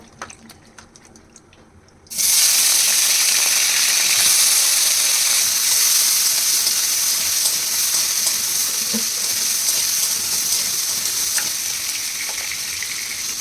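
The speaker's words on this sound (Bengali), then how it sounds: "কুচানি পেঁয়াজ দিচ্ছি। আবার তেল দিচ্ছি, ভেজে নেব।" Chopped onions hit hot oil in a pan for a traditional Bengali dish, setting off a loud, steady sizzle that jumps in suddenly after a quiet start and holds close and constant to the end.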